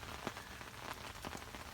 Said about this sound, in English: now it started raining again,